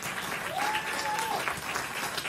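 Audience applause in a room during an interview event, steady clapping filling the whole short stretch with a brief tonal whistle-like sound over it.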